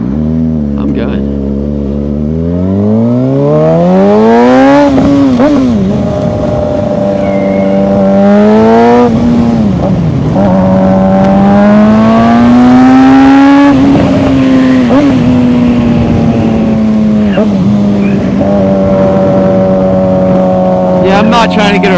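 A motorcycle accelerates on a road, its engine note climbing through the gears in long rising sweeps, loud and close throughout.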